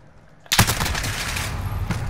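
Rapid automatic gunfire in the video game Cyber Attack erupts suddenly after a quiet moment and keeps rattling steadily, loud and close.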